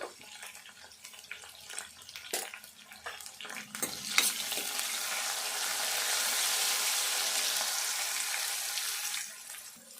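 A tempering with turmeric fries in a pan for an okra tamarind stew: scattered clicks and taps come first, then a broad hissing sizzle swells, holds for several seconds and fades near the end.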